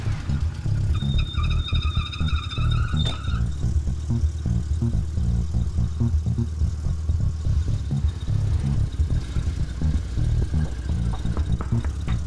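Car fitted with water boost technology pulling away in fifth gear, a steady loud engine drone with brief tire squeal early on, heard close and continuous for about twelve seconds.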